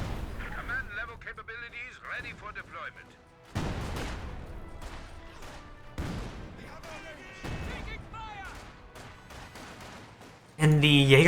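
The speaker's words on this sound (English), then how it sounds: "We do got a Zis Barrage coming out onto these units." A Zis artillery barrage in Company of Heroes 2 lands as a series of heavy impacts and explosions, spread over the clip. A louder blast closes it, and a commentator talks over the shelling.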